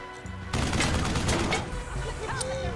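Gunfire in the turn-based game Wasteland 3 erupts after a short quiet lead-in, a loud, dense volley of overlapping shots and impacts that continues with scattered cracks toward the end.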